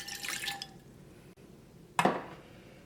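Half a glass of water goes onto washed chana dal in a pan, a brief liquid trickle followed by a sharp, close splash and clink, faint against a quiet kitchen background.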